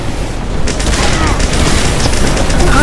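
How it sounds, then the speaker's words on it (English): Needle gun fire in Team Fortress 2: a dense, loud, continuous stream of rapid mechanical shots with booming game noise underneath. "Does that needle gun actually do anything?"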